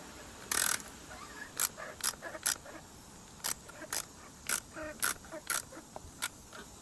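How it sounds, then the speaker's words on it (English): A torque wrench tightens a car's oil filter cover during an oil change, giving short, sharp ratcheting clicks in irregular bursts, close up against quiet background. "if you have your torque wrench, go ahead and torque this to 25 Newton meters"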